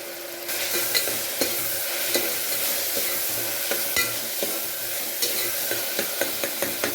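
Onions and tomatoes for mutton kulambu sizzle steadily in a pan, with regular scraping and tapping of a spatula stirring them. The sound is close and continuous, and no one speaks.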